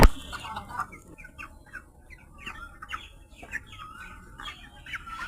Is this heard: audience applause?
no